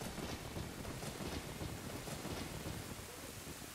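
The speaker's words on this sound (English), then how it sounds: "things are getting rainy" Steady heavy rain with a low thunder rumble in the Nintendo 64 game Zelda: Ocarina of Time, a continuous dense hiss at constant loudness and no talking over it.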